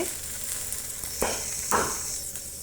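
An onion dosa fries on a hot pan with a continuous bright sizzling hiss, broken by two short scraping bursts as it is turned over.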